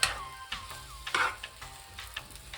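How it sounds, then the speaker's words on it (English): Mushrooms sizzle in a hot pan, crackling steadily, with a few sharp bursts as the pan is shaken; no voices. "Now you're going to wait for the mushrooms to get cooked, but you have to shake them"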